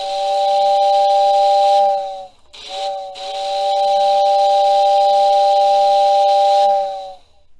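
Whistle of a Lionel 6466W model train tender under test, loud steady steam-style tones blown in two long blasts with a brief gap between, each trailing off with a falling pitch.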